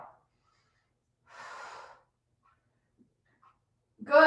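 One deep, audible breath drawn in and let out during a chair and floor exercise routine, alone in near silence, with a voice starting just at the end.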